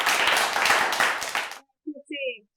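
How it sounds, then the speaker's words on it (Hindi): Audience applause at a stage event: a dense, loud burst of clapping fills the first second and a half, then cuts off sharply, leaving a few faint scattered sounds. "जोरदार तालियों से"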